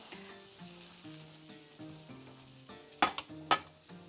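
Honey-glazed pork ribs sizzle and caramelize in a pan, a soft steady frying crackle with low tonal hum beneath and two sharp clanks near the end, with no one talking.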